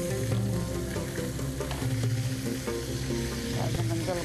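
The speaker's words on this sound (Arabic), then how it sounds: "لازم نقلب زين مره نحمر بسم الله تحملي ترى الدهن يطش" Oil fries and spatters in a small pot while chicken is turned for chicken majboos, giving a loud, continuous close-up crackle and hiss with a low steady hum underneath.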